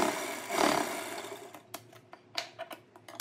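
Sewing machine stitching net fabric for a bridal lehenga tassel: a loud whirring run of stitching at the start fades out, followed by a series of quieter, sharp mechanical clicks and short bursts.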